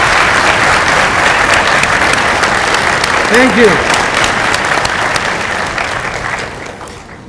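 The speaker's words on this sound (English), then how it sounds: "A big round of applause for these four, please." A hall full of people applauding at a medical school white coat ceremony, sustained dense clapping with a brief spoken thanks in the middle, fading slightly at the close.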